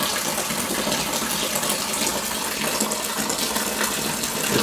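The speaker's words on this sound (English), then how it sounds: "while I'm aerating the wort, aka transferring it over to the fermenter" Wheat beer wort gushing into a fermenter and splashing for aeration, a loud, steady rushing pour that runs continuously without pause or talk.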